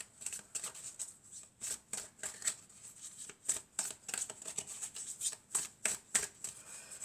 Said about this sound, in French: Je vais tirer encore quelques cartes pour voir.